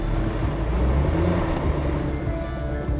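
A Range Rover SVAutobiography's engine works hard as it climbs out of soft sand, a loud continuous rumble with rushing wind and tyre noise that holds steady throughout.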